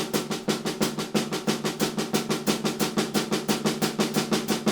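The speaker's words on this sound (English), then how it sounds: "This will all be done on a snare drum." Rapid, even eighth-note snare drum strokes rattle in a steady stream, with a few accented strokes landing slightly harder than the rest.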